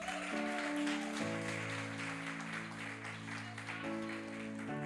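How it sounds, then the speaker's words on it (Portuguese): Steady clapping from a crowd, continuous through the whole stretch, with sustained music tones playing underneath. "Você pode aplaudir o Senhor"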